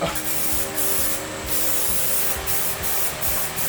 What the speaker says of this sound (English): So I'm gonna hit them with some primer and then some paint.